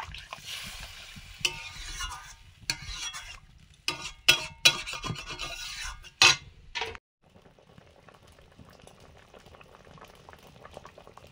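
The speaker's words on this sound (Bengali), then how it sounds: "কুড়ুলগুলো দিয়ে একটু নেড়ে দিলাম" Simmering fish curry for koi fish bubbles in a cooking pot as it is stirred, with scattered scraping and clinking knocks over a steady boil, then a quieter, even bubbling.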